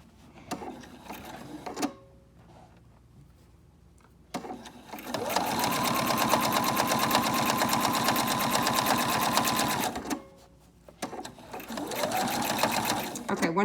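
A sewing machine stitches bias tape in bursts, a fast rhythmic mechanical whir running for several seconds at a time between pauses, with handling noises in the gaps.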